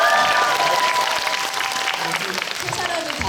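Sustained applause from a cinema audience fills the whole stretch, dense and steady, with a person's voice briefly audible over it near the start.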